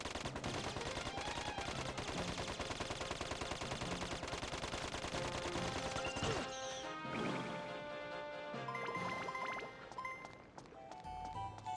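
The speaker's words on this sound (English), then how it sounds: "We found something the machine gun can hurt." Rapid machine gun fire from the video game Dark Cloud 2, dense bursts of clattering shots layered over game music and impact sounds, then tapering into musical effects near the end.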